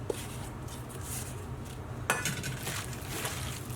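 Chicken mince being mixed by hand with kabab koobideh marinade in a bowl, soft wet squelching and stirring with a sharp knock of the bowl midway, quiet and without talk.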